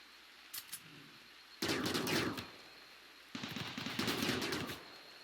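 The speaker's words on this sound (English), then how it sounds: "Who's shooting right now?" Two bursts of automatic gunfire in a modded RimWorld colony battle, each crackling volley lasting about a second, moderately loud against a quiet background.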